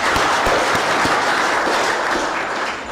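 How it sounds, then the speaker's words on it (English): An audience at an electoral commission's report launch applauds, a dense steady wash of many clapping hands that carries on loudly for a few seconds before easing slightly at the end. "can we give a clap to ourselves?"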